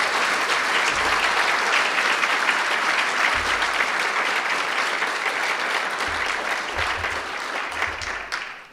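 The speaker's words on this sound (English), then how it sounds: "If we could give them all a round of applause." A banquet audience applauds steadily at close range, a dense wash of clapping that holds for several seconds before tapering off at the end.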